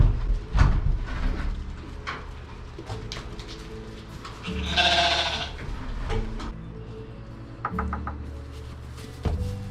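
Shetland sheep and lambs in a barn bleat repeatedly, several overlapping calls near and farther off, with a rustle of movement and a little background noise.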